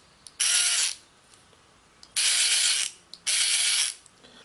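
OEMTOOLS R2 rechargeable 3/8-inch drive speed ratchet running forward and reverse: three close, loud bursts of rapid mechanical ratcheting, the first shorter and the next two about a second each, separated by near silence.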